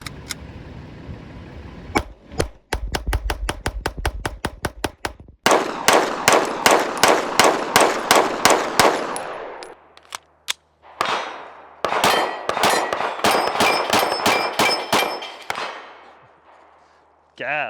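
A Smith & Wesson M&P Metal 2.0 pistol fires rapid strings of sharp, ringing shots, loud and close, in several bursts separated by short pauses, with metallic clangs and echoing decay between rounds.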